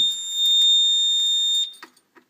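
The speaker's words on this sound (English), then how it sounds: "I'm just going to pop it into alarm and show you." A security system device goes into alarm, letting out a loud, steady high-pitched electronic tone for about a second and a half before it cuts off, followed by a few faint clicks and taps.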